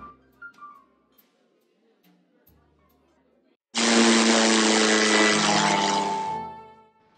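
A loud, steady roar of aircraft engines swells up after quiet, low voices, holding strong for a few seconds before fading slightly.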